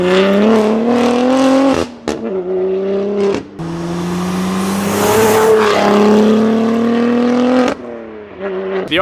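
An Audi RS3 engine with a Tone Exhaust system revs hard in loud, close bursts. Rising and falling tones are broken by sharp gaps between pulls, and one long sustained rev sits in the middle.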